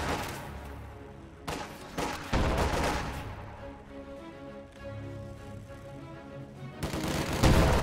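Gunfire from a video game battle as Grenadiers engage conscripts: dense, loud volleys of rifle and machine-gun fire crackle continuously, with heavier bursts near the start and end and no talk.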